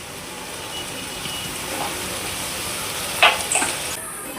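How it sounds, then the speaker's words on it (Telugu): Tomatoes and onions fry in a pan with a steady sizzling hiss, and a brief sharp spit flares up as water is sprinkled in near the end. "మీకు టమాటా త్వరగా వేగాలంటే మధ్య మధ్యలో ఇలా నీళ్ళు చల్లుకుంటూ ఉండాలి"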